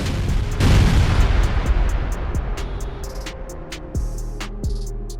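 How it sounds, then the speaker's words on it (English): A Russian infantry fighting vehicle and tank striking mines during a mechanized assault, a heavy distant boom rolling into a long rumble, followed by a few sharper, fainter blasts. "a Russian IFV and a tank struck mines during an attempted mechanized assault"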